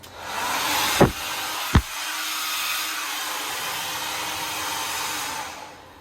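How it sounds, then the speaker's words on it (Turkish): A wall-mounted hair dryer in a five-star hotel bathroom blows with a steady, loud airy rush, broken early by two sharp knocks. "Bir adet bu şekilde sabit bir saç kurutma makinemiz var."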